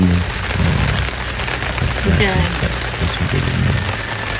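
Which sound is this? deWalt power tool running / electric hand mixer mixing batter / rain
rain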